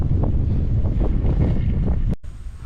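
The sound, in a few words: strong wind on Mt Tarak summit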